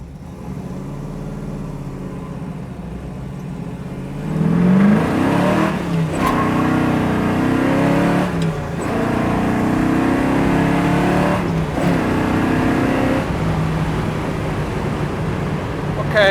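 A 1967 Chevrolet Camaro engine revs and pulls while driving, with loud sustained engine roar rising and falling through gear shifts, heard from inside the car with talk over it.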